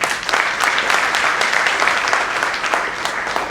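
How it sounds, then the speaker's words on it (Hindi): An audience at a Hindi sales training program applauds themselves, a steady dense burst of clapping from many hands that carries evenly through without talk. "तो जितने लोग इसके लिए तैयार हैं तो एक बार अपने लिए तालियां बजाएं"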